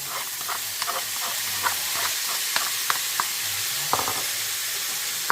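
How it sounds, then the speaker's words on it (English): Peppers and garlic sautéing in a pan hiss with a steady, close sizzle, broken by sharp clicks and scrapes as the utensil stirs the food. "So we're going to add in the peppers, garlic,"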